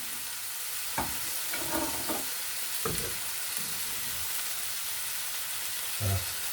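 Food frying in a pan at a campsite, cooking traditional British fare: a steady, close sizzle throughout, broken by a few soft clatters and stirring knocks.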